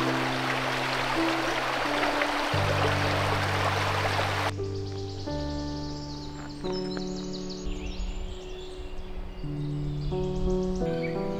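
A small river flows over a granite bed beside a wide meadow in the Morvan. Its steady rushing hiss is heard for a few seconds over soft background music, and then the music continues alone.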